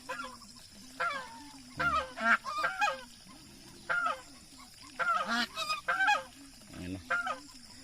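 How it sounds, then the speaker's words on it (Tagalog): Geese honk repeatedly in short, loud bursts of nasal calls, several birds overlapping, with a steady background hum between the calls. "Pag may tao yung gabi, maingay. Gansa."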